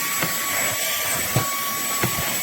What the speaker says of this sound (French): est le premier que je vois qui aspire vraiment.